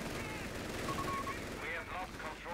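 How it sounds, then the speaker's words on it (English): Rapid bursts of machine gun fire in the World War II strategy game Company of Heroes 3, heard through a steady battle din with a commentator's voice over it. "MG suppressing."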